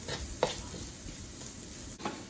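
Cooked egg stirred into a mixture of broken idyappam and vegetables in a pan, a soft scraping stir with two brief utensil clacks over a faint sizzle, close and quiet.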